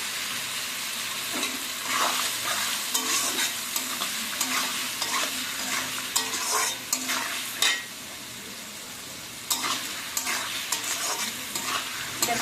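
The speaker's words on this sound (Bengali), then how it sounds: "পেঁয়াজটাকে একদম লাল করে ভেজে নেবো" Chopped onions frying in oil and being stirred for a Bengali chicken and potato curry: a busy sizzle mixed with repeated scraping strokes of a spatula against the pan, close and steady, without talk.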